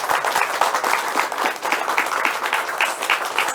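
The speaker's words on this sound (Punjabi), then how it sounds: "ਤਾਲੀਆਂ ਦੇ ਨਾਲ ਸਵਾਗਤ ਕੀਤਾ ਜਾਵੇ" A crowd at a political public gathering applauds with dense, sustained clapping that holds steady from start to finish.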